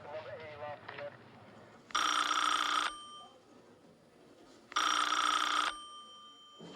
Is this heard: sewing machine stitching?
no